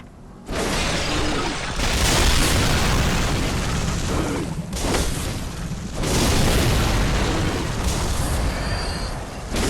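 Gunfire in the video game Bloodborne: loud, dense bursts of blasts and impacts across the clip, with brief dips between heavy booming volleys and no talk over them.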